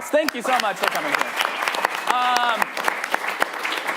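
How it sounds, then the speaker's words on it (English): A small-theater improv show audience applauds with scattered sharp claps and cheering, while a performer speaks loudly over it near the microphone. "give yourselves a round of applause"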